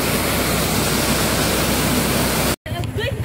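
Loud, steady rush of a fast mountain stream, continuous and close, with a brief dropout just before the end.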